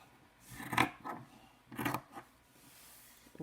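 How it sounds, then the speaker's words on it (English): Scissors cutting through felt on a table in long strokes, a few soft crunching snips in two clusters, close and quiet. "Scissors are flat on the table to stay straight, or long strokes with the scissors."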